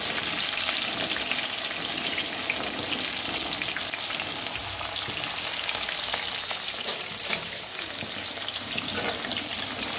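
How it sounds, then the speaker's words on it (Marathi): Onions sizzle hard in a pan of hot oil with cloves, black pepper, bay leaf, shahjeera and cinnamon for egg biryani, a loud, steady, close frying hiss with faint stirring scrapes and no voices. "आता आपण कांदा टाकून घ्यायला लागले।"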